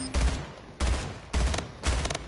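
Battle rifle fire in Splitgate: four separate, evenly spaced bursts of rapid shots, each punchy and close, with short gaps of quieter ambience between them.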